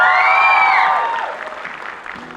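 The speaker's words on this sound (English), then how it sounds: "let's give them all a huge round of applause." Audience applause with cheering at a beauty pageant grand finale in Kohima, loud at first over tonal music, then fading to a softer patter, with a low hum entering at the end.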